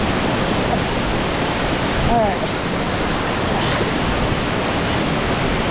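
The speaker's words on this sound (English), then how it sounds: "There's a waterfall here." Rushing water of Rutledge Falls, a river waterfall, fills the scene as a steady, loud, broadband roar with no breaks, and a person speaks briefly over it.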